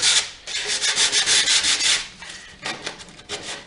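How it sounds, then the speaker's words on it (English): Paint being scuffed off a painted wooden Christmas welcome sign, heard as a close run of brisk rubbing, sanding strokes that pause briefly, then return as shorter, rougher scrapes. "After putting all that paint on, now we're going to scuff it off."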